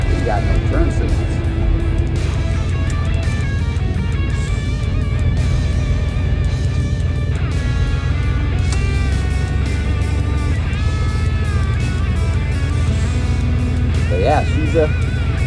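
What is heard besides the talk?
GMC Caballero engine driving on test drive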